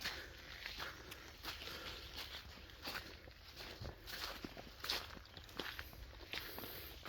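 Footsteps push through a corn field in a steady walking rhythm, each step a soft crunch and rustle of leaves and stalks, close and moderately quiet, with no talk.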